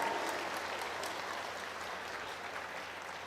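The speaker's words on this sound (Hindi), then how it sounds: "जोर से ताली बजाकर तारीफ करो परमेश्वर की" A congregation claps in praise during a Hindi church service, a dense continuous applause heard at a moderate distance, fairly even and fading slightly over a few seconds, with no speech over it.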